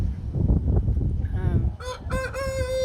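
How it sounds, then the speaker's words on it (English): Chickens cluck and squawk up close, ending in a drawn-out, honking cry, with rustling and muffled background noise. "you see Bonnie's being pecked at by a chicken right now"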